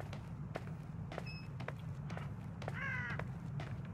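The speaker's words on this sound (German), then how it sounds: "Da hört ihr schon, da oben ist jetzt eine Krähe" A crow caws faintly in the distance in the video game The Evil Within, with a short series of harsh calls near the end over a low droning ambience and scattered soft knocks and footsteps.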